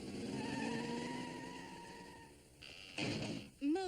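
A cartoon car engine hums and fades as the car drives off, followed by brief clatter and a rising whine-like effect at the end.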